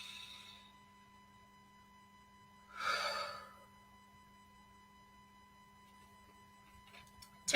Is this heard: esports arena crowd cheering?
no